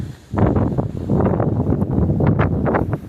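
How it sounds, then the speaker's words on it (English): Strong wind at a coastal state park in South Carolina, Pine Island, buffeting the microphone in loud, continuous gusts with rushing, rumbling surges. "it's very windy, as you can see"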